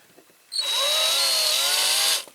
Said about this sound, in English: I'll drill this one first